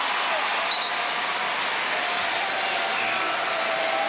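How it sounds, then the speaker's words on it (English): Crowd noise from a packed Rupp Arena basketball audience at Kentucky vs. Arkansas, a sustained broad roar of booing after a foul call, steady and loud throughout with no let-up. "the boos you hear are for the foul call on Sheree Thomas, his 4th"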